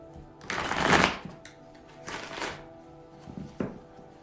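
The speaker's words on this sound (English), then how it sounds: "Shuffle these cards." Tarot cards being shuffled, a few soft riffling bursts with short gaps between them, close and fairly quiet, with no talking.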